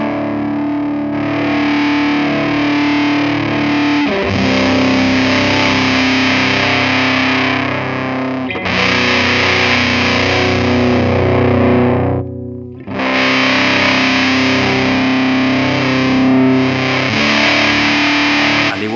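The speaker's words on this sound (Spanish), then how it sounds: "Con el joystick podemos ajustar el tono del fuzz y la ganancia o distorsión." An electric guitar played through a FuzzBox Gear Janus fuzz pedal, thick saturated distortion ringing out in loud sustained chords that are restruck in several long phrases with short breaks between them, with no talking.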